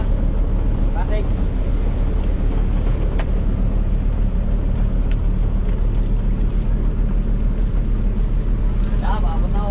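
Two engines of the fishing boat Raptor set out to sea in a loud, steady low rumble that stays constant throughout, mixed with wind buffeting and faint voices in the background.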